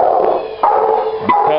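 A puppy barks and yips at a GoDogGo fetch machine in a yard, three short sharp vocal bursts spaced about half a second apart, close and loud over a faint background.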